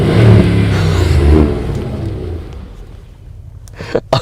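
A car engine revs hard while still in park, loud and close at first, then dies away into a quieter rumble, with a few sharp knocks and bumps at the very end.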